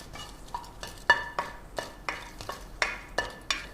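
Kashmiri red chilies tossed into a pan with whole spices are stirred, with a spoon tapping and scraping the metal in a regular rhythm of sharp clinks over a faint sizzle.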